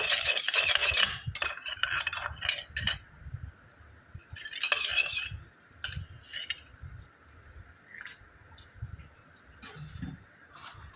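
Food colour for tutti frutti is stirred with a spoon in a bowl, producing bursts of quick scraping and light metallic clinks separated by quieter pauses, with no voices.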